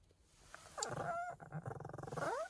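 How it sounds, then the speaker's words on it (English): A small guard dog growls and snarls beside a Jeep Grand Cherokee at a campsite, a close, rising, throaty rumble breaking into pulsing growls and whines. "And that is what she does anytime someone tries to approach the Jeep."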